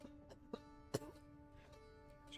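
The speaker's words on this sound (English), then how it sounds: "about coughing into the mic." A couple of short, sharp coughs land close into a microphone, separated by quiet room tone and a faint tonal hum in the background.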